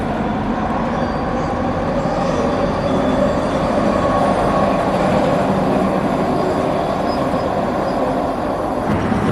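A train rolls past loudly and steadily, with rumbling wheels, rattling cars and a faint squeal, continuous for the whole stretch.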